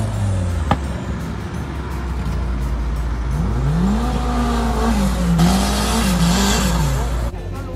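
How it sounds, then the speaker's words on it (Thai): An off-road car at a competition in Bo Phloi, Kanchanaburi, climbing steep slopes, its engine droning loudly and rising and falling in pitch as it works the throttle, with crowd and outdoor noise around it. "ก็มีการขับรถขึ้นทางชันลงทางชัน"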